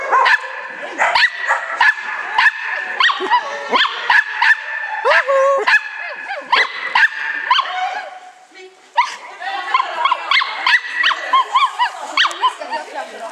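Dog barking repeatedly in a near, loud run of sharp barks and yips with whining, pausing briefly midway and then resuming, with human voices mixed in.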